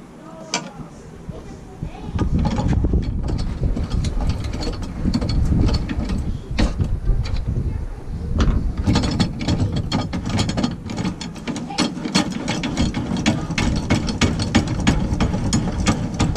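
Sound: saw cutting one inch off a jetty cart part

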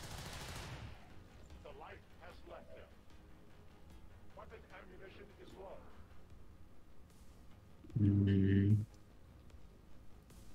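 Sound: gunfire from the video game XCOM 2

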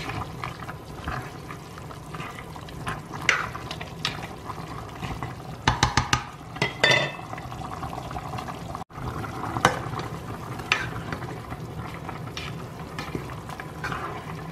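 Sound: Thai chicken om curry boiling in a pot

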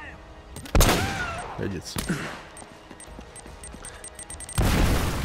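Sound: gunfire in Uncharted: Drake's Fortune video game

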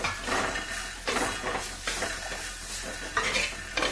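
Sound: frying soaked jackfruit in a pan

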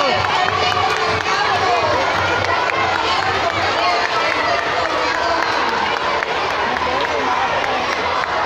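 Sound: school audience applauding and cheering

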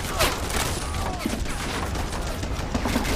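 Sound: rifle volley gunfire, video game Men of War Assault Squad

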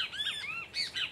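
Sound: great kiskadee (bem-te-vi) singing

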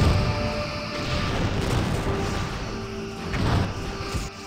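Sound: torpedo fire in video game Star Trek: Bridge Commander

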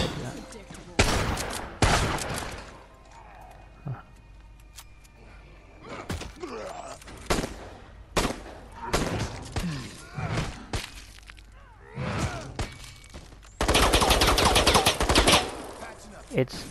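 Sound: gunfire from a gun in a video game

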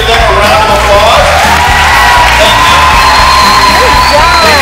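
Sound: crowd applause and cheering

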